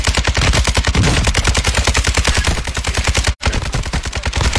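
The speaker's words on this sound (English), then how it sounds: "He's still firing at me." Automatic weapon fire in the video game Call of Duty Warzone 2.0: a rapid, unbroken stream of loud shots at an even fast rhythm, briefly cut off once near the end, with no voices over it.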